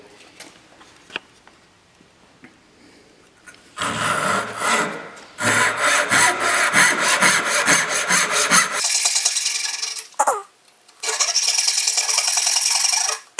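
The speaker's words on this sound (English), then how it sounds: "we can just make a couple relief cuts here for the chisel" Hand saw making relief cuts in a wooden board for hand-cut dovetails, pins first: sustained, steady rasping strokes in several loud bursts separated by short pauses, close up and with no talking.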